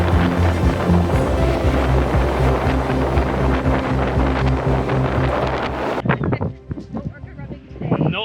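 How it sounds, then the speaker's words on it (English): Strong wind roars across the microphone on a beach in British Columbia's Gulf Islands, loud and gusty throughout and easing slightly near the end, with a voice partly buried beneath it. "it's way windier here than it is around the tent overall"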